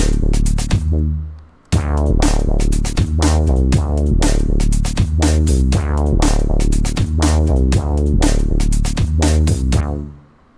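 A deep electronic bass line pulses in a rhythmic pattern, its filter sweeping open and closed as if shaped by a recorded voice, loud and close with no talk.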